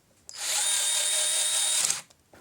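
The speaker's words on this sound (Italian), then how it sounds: "Ti volevo far vedere anche la chiusura con questo avvitatore come semplice, adesso è sull'1 come coppia, arriva in fondo e poi si spegne" A cordless screwdriver set to its lowest torque setting drives a screw home and then cuts out, giving a steady high whir of about a second and a half that starts abruptly and stops sharply, loud and close with no talking.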